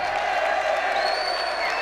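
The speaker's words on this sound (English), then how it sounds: "Gentlemen, hold your applause, please." Crowd in a school gathering applauds during the introduction of the 1971-72 swimming team members, a brief, dense burst of clapping and murmur filling the space with no break.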